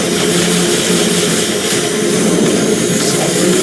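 A bomber aircraft formation flies over in the game X-Morph: Defense, a loud, steady, unbroken engine roar that fills the whole stretch without pause.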